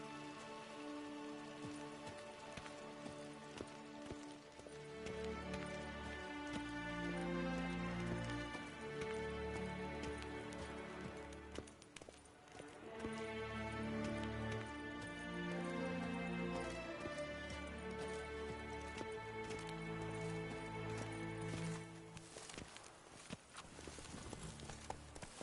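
Horse hooves clip-clop in a steady walking rhythm in a Witcher video game, mixed with a constant patter of rain and a low musical bed, the footfalls close and moderately loud throughout.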